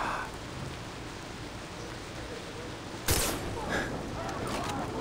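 Steady rain in the video game Far Cry 3, a dense wash of falling drops throughout, with a sharp louder splash or burst near the middle and brief faint sounds after it.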